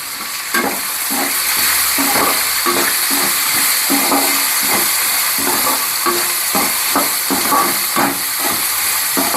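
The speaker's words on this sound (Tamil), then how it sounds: "வெங்காயம் நல்லா வதங்கி வரட்டும்." Onions sautéing in a pan for tomato rice give off a loud, steady sizzle and hiss, with stirring scrapes running throughout and no talking.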